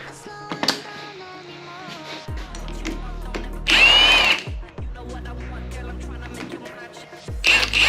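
Power tool, a drill or impact driver, loosening bolts on a KZ900 motorcycle during a rebuild, whirring in several short bursts with spin-down pauses, a sharp harsh grinding burst midway and clanks of parts between.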